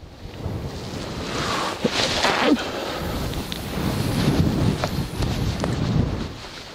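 Strong gusty wind buffets the microphone at a lakeside carp-fishing spot, rising and falling in rough surges with dull rumbling bursts and no speech.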